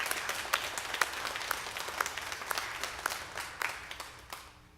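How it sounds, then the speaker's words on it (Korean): A church congregation claps in thanks for a worship team singer, scattered and fairly quiet hand claps from many people, with sharp individual claps standing out and the applause tapering off toward the end. "정말 우리 감사의 박수 한번 드리십시다."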